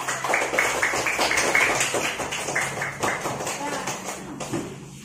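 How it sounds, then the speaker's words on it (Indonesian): Students in a classroom clap for their presentation group in a quick, patterned rhythm of sharp taps. The clapping stays fairly close and fades slightly toward the end. "Tepuk tangan untuk kelompok kami."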